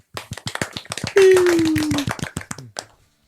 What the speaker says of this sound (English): Golf clap for Jake.